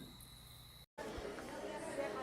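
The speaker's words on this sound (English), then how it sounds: "Like this is crickets that I recorded outside." Crickets recorded outdoors on a Zoom H1 handheld recorder, a steady high insect chirr with faint background hubbub, broken by a brief dropout partway through.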